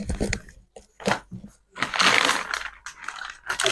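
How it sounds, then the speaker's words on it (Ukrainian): Unpacking a Metro shopping bag: plastic rustling, crinkling and clattering of groceries being pulled out, in short irregular bursts close to the listener, with brief quiet gaps between handlings. "Зараз я буду розпаковувати перший пакет."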